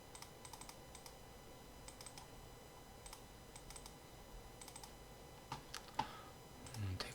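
Soft keystrokes tap on a computer keyboard in quick irregular bursts, with a slightly louder cluster of clicks near the end, quiet and close with no voices.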